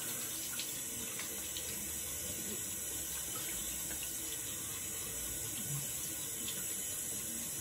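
Cold tap water runs steadily into a sink to rinse shaving cream off after a shave, a continuous close splashing hiss with no talking.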